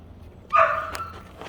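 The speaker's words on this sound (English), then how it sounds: "You can hear Archer barking." A dog named Archer gives a single short bark, heard somewhat distant in a garage where a Ford F150 wheel bearing is being replaced, followed by a faint second yip against low background hum.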